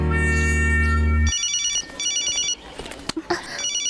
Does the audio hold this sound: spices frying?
no